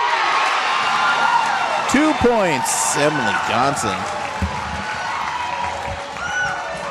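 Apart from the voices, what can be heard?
crowd cheering at women's volleyball game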